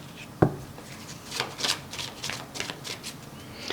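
Therapy cards are shuffled by hand in a close, brisk run of papery riffles that follows one sharp tap at the start.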